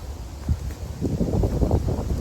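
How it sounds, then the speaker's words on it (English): A gust of wind sweeping through a shade garden after Hurricane Helene, with low buffeting rumbles and rustling that build in the second half. "we got a wind gust coming through"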